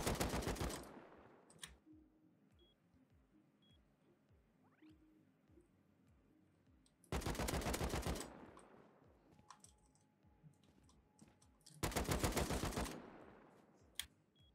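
Bursts of automatic AK-47 fire in the video game Rust: three separate sustained volleys of rapid shots, loud and close, with quiet gaps of faint clicking and ambient game sound between them.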